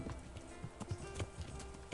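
Steady clip-clop of horse hooves at a trotting rhythm in the video game Kingdom Come: Deliverance, moderately close, with a low background ambience.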